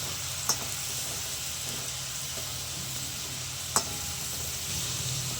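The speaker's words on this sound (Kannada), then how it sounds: "ಬೆಳ್ಳುಳ್ಳಿ ಅದನ್ನು ಅದಕ್ಕೆ ಹಾಕೋತಾ ಇದ್ದೀನಿ ಇದು ಚೆನ್ನಾಗೆ ಸ್ವಲ್ಪ ಬಾಡಿಸ್ಕೋಬೇಕು" Garlic sautéing in a pan on low heat for a spicy garlic chutney gives a continuous close sizzle, broken by two sharp clicks from a utensil.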